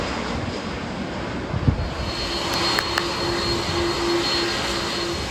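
A JetBlue jet airliner roars over Maho Beach on St. Maarten, a broad, sustained engine rumble that swells slightly, with some wind buffeting and no talk.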